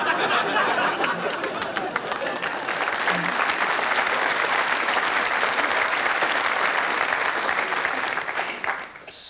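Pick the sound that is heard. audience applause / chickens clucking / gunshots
audience applause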